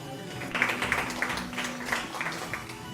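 Scattered hand claps ring out through a quiet indoor hum during the final of a shooting match, coming in a loose, uneven patter that stays fairly faint throughout.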